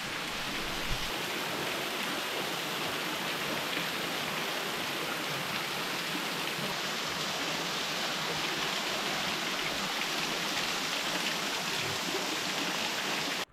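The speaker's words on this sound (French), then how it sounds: "Donc directement dans la cascade." A mountain waterfall on a hiking trail in Corsica roars in a steady, dense rush of falling water close by, continuous and unbroken with no voices.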